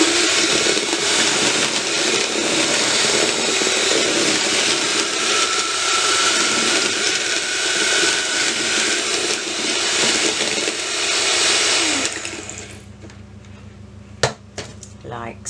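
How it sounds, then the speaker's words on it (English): Carrot cake batter with sunflower oil being mixed, a loud continuous whirring and rattling against the bowl for about twelve seconds, then stopping, followed by a few clinks. "give that a whisk as well."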